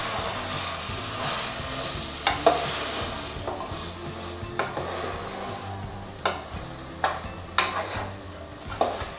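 Country chicken curry sautéed and stirred in a pan under a constant sizzle, with a spatula scraping the pan in regular strokes about once a second.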